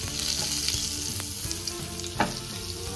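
Oil and butter sizzle hard in an overheated pan for Rasta pasta with Sriracha lamb chops, a steady loud hiss with brief crackles and one sharper pop near the end.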